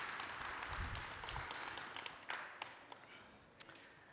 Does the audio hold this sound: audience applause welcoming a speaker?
yes